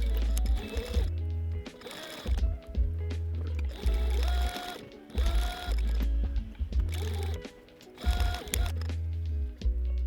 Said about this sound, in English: Then sew the remaining 3 sides to close the pocket.